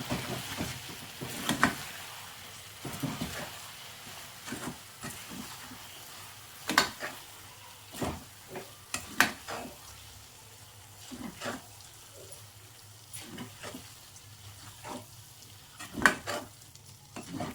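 Roasted bread mixture stirred in a frying pan on low flame, soft sizzling under repeated scraping and clinking strokes of a spoon at an uneven pace, close and fairly quiet.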